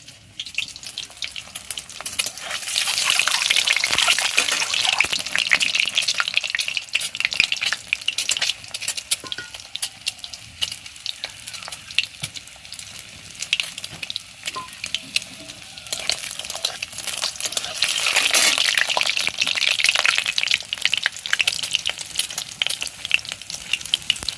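Steady, close sizzling of an egg frying in hot oil. The crackle stays continuous throughout and swells louder at a couple of points.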